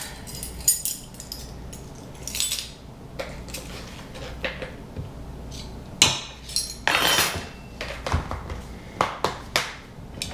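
Muffin batter for vegan blueberry cranberry muffins, with sea salt and baking soda, is stirred in a bowl, producing intermittent clinks and scrapes of a utensil against the dish, fairly quiet and close, with no talking.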